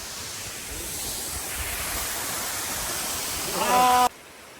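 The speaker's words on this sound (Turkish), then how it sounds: "Serik'teki uçan su şelalesi. Bu birinci şelale arkadaşlar." Uçansu waterfall in Serik, Antalya roars as a steady broadband wash of falling water, loud and continuous, with a brief bleating animal-like call near the end before the sound cuts out.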